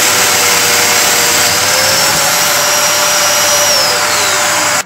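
Handheld router cutting into beech heartwood for a wardrobe build, a loud, steady high-pitched whine with a hissing cutting roar that holds evenly for about five seconds before stopping abruptly.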